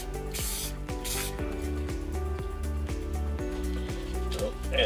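Spray can misting paint onto paper laid over a cutting mat, a steady hiss running under a loud rhythmic mechanical clatter throughout.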